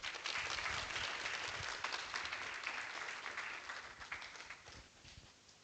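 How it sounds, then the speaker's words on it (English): A conference audience at a law, technology and society event applauds steadily, a dense wash of many hands clapping together that holds for several seconds before thinning slightly toward the end. "Please give a round of applause."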